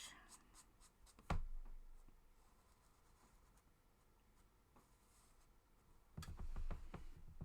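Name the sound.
pens writing on paper while drawing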